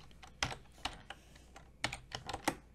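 Code being typed on a computer keyboard: close, quiet, irregular key clicks in small clusters, with no talk.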